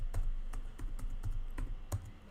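Someone types on a computer keyboard, producing about nine distinct, evenly spaced key clicks at a steady, unhurried pace, close and clear over a quiet background.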